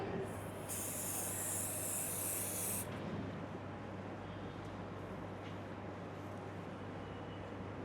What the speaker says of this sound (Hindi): इसके बाद नेक्स्ट होगा हार्ड स्प्रे।